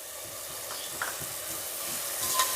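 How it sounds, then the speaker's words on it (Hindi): Seviyan vermicelli roasting with malai cream in a pan, a soft low sizzle and hiss with a few faint stirring scrapes, fairly quiet and steady with no talking. "1 मिनट में अब इनको भून रही हूँ ताकि जो मलाई है इसमें अच्छी तरह मिक्स हो जाए"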